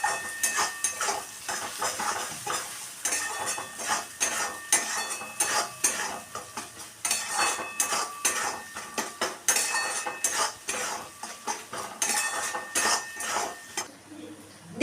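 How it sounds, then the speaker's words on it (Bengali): Masala with chili powder and salt stir-fried in a pan for an egg tikka masala, with a spoon repeatedly scraping and clinking against metal in an uneven rhythm over a soft sizzle. "দিয়ে আবারও মশলাটাকে আমি ভালো করে কষিয়ে নিচ্ছি।"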